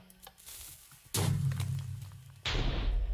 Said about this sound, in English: So that's a standard cannon that just fired.